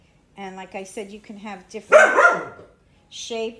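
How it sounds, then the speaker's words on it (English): A pet dog barks loudly in a short burst of sharp yaps indoors, cutting in between sentences of someone talking close by. "Sorry, he's barking so much."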